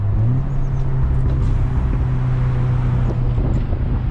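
Car with a burble-tuned exhaust, heard from inside while driving: a steady, loud low engine drone with wind buffeting, and no talk.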